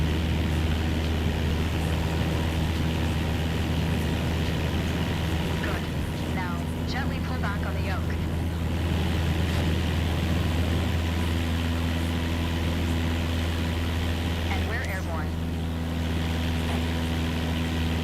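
A small propeller airplane runs its engine at full power for takeoff, a steady droning hum with a strong low tone that holds throughout. A person talks over it at times.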